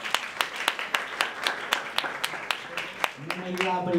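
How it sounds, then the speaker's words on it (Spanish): A modest audience claps for a performer at a comedy or variety show. The claps are sparse and fairly regular, and a voice begins speaking near the end. "Fuerte un aplauso a Santi Martínez"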